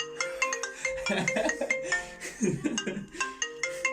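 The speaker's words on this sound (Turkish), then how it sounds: "İlk olarak mesajı gönderdim ve telefonum çalar." A phone ringtone plays an electronic melody in repeating bursts, fairly close, with some faint voices underneath; an iPhone ringing.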